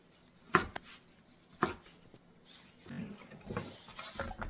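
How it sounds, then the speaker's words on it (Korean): Knife cutting tender radish greens into pieces about 6 cm long on a board, two sharp chops followed by softer scattered cuts and rustling, close and fairly quiet. "집어먹기 좋게 6cm 정도로 잘라줍니다"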